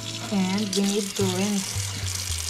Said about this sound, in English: rinse the bamboo shoot.